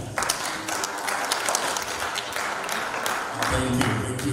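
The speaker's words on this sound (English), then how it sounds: "Let's do a good clap," Audience at a seminary graduation ceremony applauding, a dense, steady burst of many hands clapping close by, without talk.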